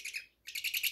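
A bird gives high chirping calls in quick rhythmic bursts with a brief pause in the middle, close and clear with no talk.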